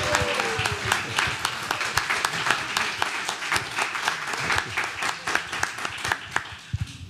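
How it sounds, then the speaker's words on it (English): A congregation at an Easter church service claps and cheers, with dense, rhythmic applause that carries on steadily for several seconds, moderately close and fairly loud. "Let us all cheer."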